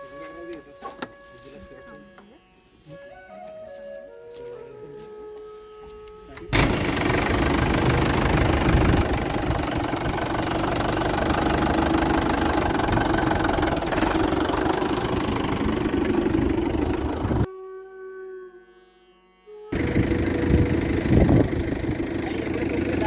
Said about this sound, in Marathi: आता आपलं ट्रॅक्टर सुरू होत आहे